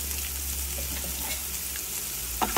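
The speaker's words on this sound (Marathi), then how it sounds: "आणि आपण परतून घेऊया छानपैकी" Finely chopped onion with cumin seeds and salt sautés in a pan for a Maharashtrian bean vegetable dish, giving a steady close sizzle and crackle with a couple of soft stirring knocks near the end.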